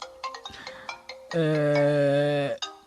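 A phone's ringtone sounds during a live call-in show, with a few short tones followed by a sustained loud melodic ring of about a second that then stops.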